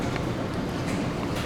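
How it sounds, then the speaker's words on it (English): A furnace blower runs during the recycle delay after a failed ignition, a steady broadband whoosh of moving air with a low hum beneath and no change across the moment. "you can hear the blower running"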